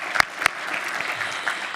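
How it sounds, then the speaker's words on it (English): Applause from an audience at a presidential address, a steady dense patter of many hands clapping with a couple of sharper individual claps near the start, moderately loud and without speech. "We should give them a round of applause,"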